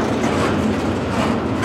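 A CSX container freight train rolls past close by, a steady loud rumble of wheels and cars with a faint rhythmic clatter and no pauses.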